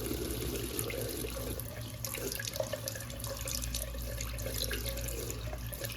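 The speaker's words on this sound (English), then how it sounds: "go to the sink now and rinse that out." Kitchen sink tap running steadily while a milk container is rinsed out, a continuous close rush of water with slight splashing and no talk.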